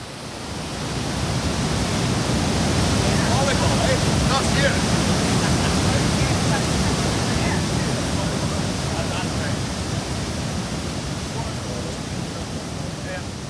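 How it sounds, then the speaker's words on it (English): A crashing waterfall roars in a loud, continuous wash of noise from close by, steady throughout with no clear voices above it. "the roar of the falls"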